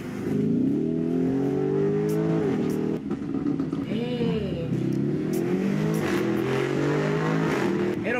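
A widebody Lamborghini Urus engine revs up and settles into a steady throaty drone with rising and falling pitch, loud and close, and faint voices come through underneath.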